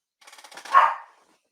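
A single short dog bark, close and fairly loud, rising quickly and fading within about a second.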